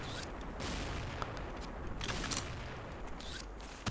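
Gunfire in the Xshot online shooting game, rendered as quick bursts of shots with sharp cracks at irregular intervals over a low, rumbling background, moderately quiet throughout.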